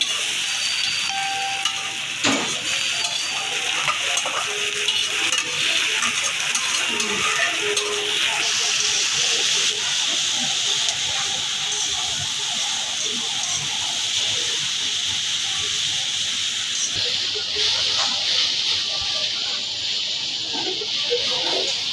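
Leafy greens (shak) frying in a pan, a continuous close sizzle and hiss with occasional stirring scrapes.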